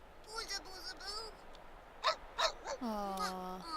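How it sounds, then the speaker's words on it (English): Cartoonish puppies in The Sims 3 game yip and whine in short, high bursts, then one drawn-out falling whimper, heard close and clear with a voice murmuring softly beneath. "Cute puppies."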